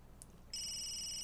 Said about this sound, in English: your phone's ringing, Tobster.